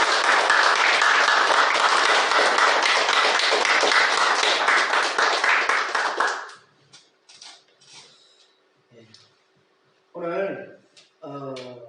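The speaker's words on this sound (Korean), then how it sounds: "또 우리 박수 한번 치도록 하겠습니다." A church congregation applauds in a dense, steady wave of clapping that fills the room for about six seconds, then stops, leaving someone speaking alone over quiet.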